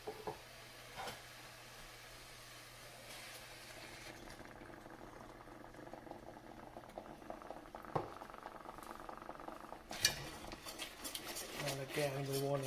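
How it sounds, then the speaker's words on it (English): Cream being stirred into a flour and butter roux in a pan on the stove, a steady bubbling simmer with soft scraping and occasional utensil clinks against the pan throughout. "just keep stirring it till it's absorbed"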